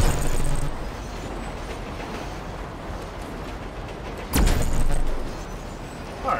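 A train in GTA 5 Online rolls past with a steady rumbling clatter of wheels on rails, then a sudden louder burst as it goes by close, fading back afterward; no talking.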